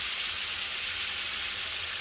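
Spice paste frying in hot oil gives off a steady, even sizzle that holds at a constant level throughout, close and unbroken.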